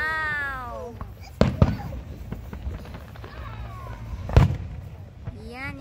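A Fourth of July fireworks display outdoors, with two distinct booming bursts a few seconds apart amid excited voices talking and exclaiming.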